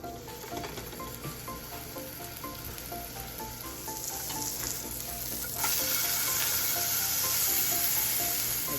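Sausage sizzles steadily in a frying pan, a continuous close crackle that swells louder toward the end, with occasional light scraping and no voices.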